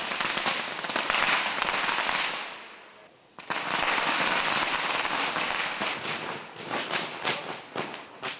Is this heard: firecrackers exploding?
yes